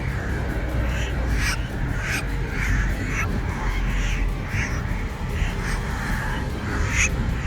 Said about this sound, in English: A large number of starlings flooded into Tianjin on October 30th,